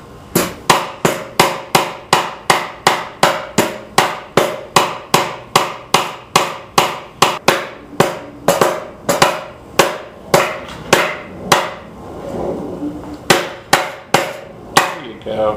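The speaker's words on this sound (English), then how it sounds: "Keep hammering." Steady, loud hammer blows drive nails into a wooden bird house, a regular rhythm of sharp knocks repeating about twice a second with brief pauses, a faint voice now and then in the background.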